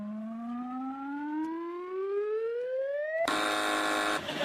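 A TV panel quiz show buzzer: a loud siren-like tone rises steadily in pitch for about three seconds, then cuts to a harsh, raspy buzz that holds briefly before stopping.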